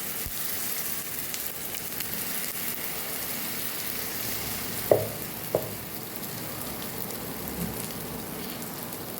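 Handvo batter lands in hot oil tempered with cumin, white sesame and a curry leaf sprig, a soft continuous sizzle close by with a couple of sharp taps or pops midway, no voices.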